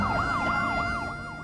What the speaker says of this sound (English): Ambulances immediately converged on the scene, followed closely by medical evacuation helicopters